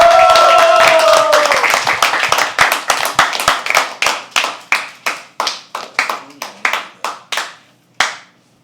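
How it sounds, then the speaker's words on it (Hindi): Audience at a poetry open mic at The Habitat claps briefly, a dense burst of applause that quickly thins into a few scattered, slowing claps before stopping. "एक बार जोरदार तालियां आकांक्षा उपाध्याय के लिए"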